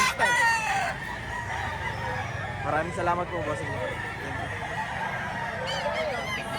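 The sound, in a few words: rooster crowing and clucking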